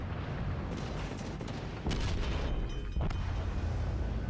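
Warship artillery in World of Warships booms amid a dense, continuous rumble of battle, with sharper salvo blasts near two and three seconds standing out from the roar.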